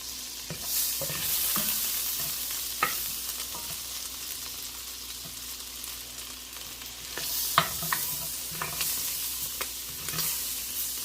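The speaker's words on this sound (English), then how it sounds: "once that melts, I have 3 onions quartered that I'm going to put in here" Quartered onions fry in melted butter for beef bourguignon. A constant soft sizzle carries scattered clicks and scrapes of stirring.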